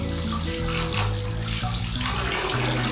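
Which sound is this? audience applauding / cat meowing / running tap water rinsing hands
running tap water rinsing hands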